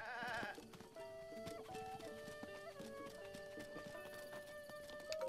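Goats bleat in The Legend of Zelda: Breath of the Wild, with short animal cries and hoof-like clicks layered over quiet, tonal game music. The whole scene is soft and has no speech.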